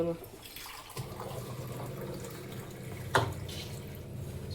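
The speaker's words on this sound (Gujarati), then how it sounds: "પાણીનો ગ્લાસ ભરી દો" Water runs and trickles steadily into a glass nearby, with a brief clink partway through and faint background sounds.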